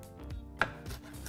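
Knife chopping onion on a board with a few soft, spaced thuds and one sharper tap, quiet and close, no voices.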